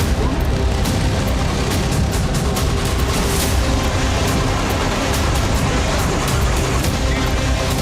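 Drone strikes explode across Moscow in a loud, chaotic barrage: repeated sharp blasts and cracks burst over a constant heavy roar of noise.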